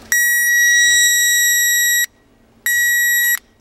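A Power Probe 3 12-volt circuit tester gives two loud, steady electronic beeps up close, a long tone of about two seconds, a brief pause, then a shorter tone, with no talking.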